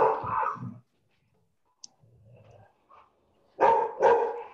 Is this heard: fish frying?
no